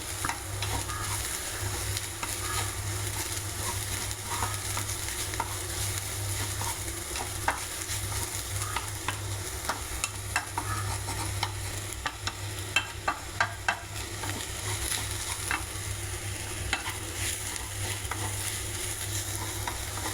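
Onions fry in a pan for prawn fry, a steady close sizzle broken by scraping stirs at irregular moments, with a constant low hum beneath and no voices.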